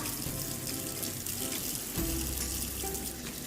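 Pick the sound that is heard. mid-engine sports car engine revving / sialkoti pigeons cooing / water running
water running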